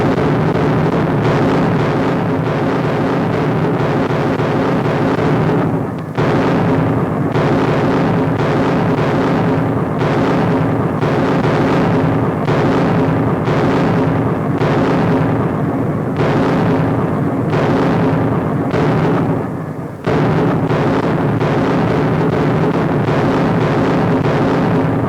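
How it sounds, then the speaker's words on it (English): Allied big guns firing at night during the WWII fighting for Tunisia, a dense rolling barrage of heavy booms repeating every second or so for the whole stretch, loud and rumbling on archival sound. "the Allied big guns go into action to prepare the way for complete collapse of the Axis"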